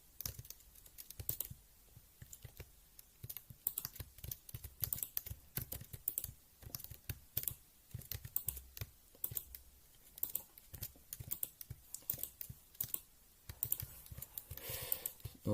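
Someone presses keys on a computer keyboard over and over to start a game: a long run of quick, irregular, crisp clicks and taps, close and fairly quiet, with no talking.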